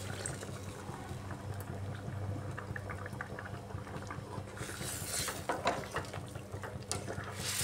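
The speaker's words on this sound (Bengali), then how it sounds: "দিয়ে দিচ্ছি পরিমাণ মতো ঝোল।" Hot water is poured into an egg curry with ridge gourd, with a soft, steady liquid rush and a light bubbling sizzle running throughout, growing slightly brighter near the end.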